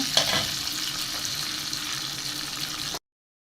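Butter sizzling and frying in a pan for a lentil dal dish, a steady, fairly loud hiss lasting about three seconds and then cutting off abruptly.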